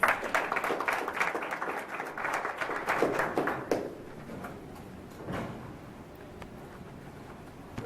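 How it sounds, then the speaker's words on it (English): Applause from an audience welcoming Senator Tregenza Roach at a university student government address: dense, steady clapping for about four seconds, then fading to quiet room tone. "Let's give a round of applause"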